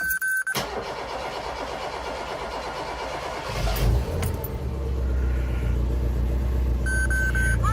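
A Toyota 4WD Tercel left unused for about two weeks cranks and fires up, a short starter whir followed by the engine catching and settling into a steady low idle rumble nearby.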